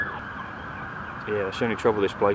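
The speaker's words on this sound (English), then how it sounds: "So I'll just let this ambulance go by." An ambulance siren sounds steadily from a road right beside a carp lake, fairly loud and constant throughout, with someone talking over it in the second half.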